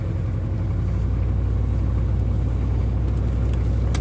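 A Ford F100 truck drives across a yard with a steady, close engine rumble at low revs and a constant drone, no voices over it.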